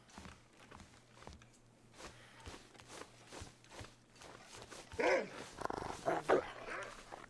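Dog bark and growl from Shep, the companion dog in The Long Dark, a few loud sharp bursts near the end over soft in-game footsteps and ambient noise.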